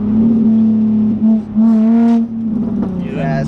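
Inside a gutted, lowered car the engine hums with a steady droning tone that rises and falls with revs, loud and close, while a person talks over it.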